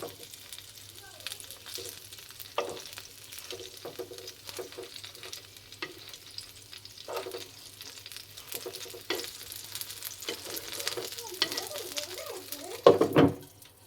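A snack fries over low heat in a covered pan, a soft, faint sizzle with scattered spatters and a sharper lid or pan clatter near the end, with faint talk now and then.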